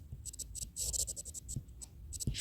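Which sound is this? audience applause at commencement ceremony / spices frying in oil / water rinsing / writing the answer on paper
writing the answer on paper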